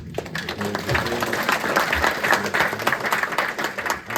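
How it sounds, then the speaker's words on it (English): Round of applause from the audience at a public school board of education meeting, steady and fairly close, with a few voices murmuring through the clapping. "For the last time, to give her a round of applause"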